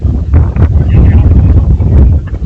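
Loud, gusty wind buffets the microphone in rough, rumbling bursts that rise and fall.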